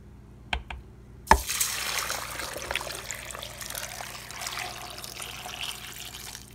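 Two small clicks, then water pours steadily into a cooking pot of chicken broth holding rice, chicken consommé and onion, a close, continuous splashing trickle lasting several seconds.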